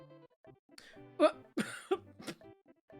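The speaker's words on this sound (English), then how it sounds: "I had to clear my throat there." A congested man clears his throat in a few rough, raspy bursts, close and moderately loud, separated by short pauses with some breathy vocal noise between them.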